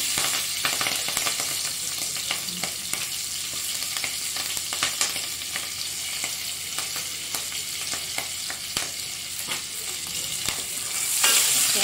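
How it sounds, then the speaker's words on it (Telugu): Crushed garlic and green chilies fry in hot oil, a steady bright sizzle with frequent scraping stirs and clicks from a spatula, close up and continuous, with no voices. "ఇప్పుడు ఆయిల్ కాగింది కదా, ఇందులో ముందుగా దంచి పెట్టుకున్నటువంటి వెల్లుల్లిపాయి, అలాగే పచ్చిమిర్చి,"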